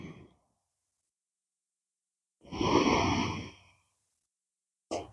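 A single deep, slow exhale during a guided relaxation breathing exercise, a soft breathy rush lasting about a second, set between silences with a faint breath at the start and end.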